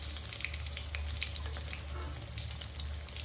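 Pieces of rohu fish fry in hot oil, Bihari style, with a steady, close sizzling hiss and small crackles running throughout.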